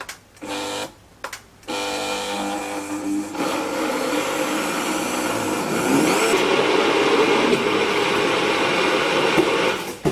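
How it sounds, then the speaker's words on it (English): A blender whirs through pistachio nice cream with cashew nuts, starting with a few short pulses before running continuously, its loud motor pitch climbing as the mixture smooths, with no talking. "I ran the blender 3 times in order to get it smooth"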